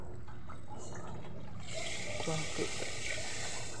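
Water pours into a cooking pot for a fish stew in coconut milk, a continuous trickling rush that grows fuller partway through, with a faint voice briefly heard.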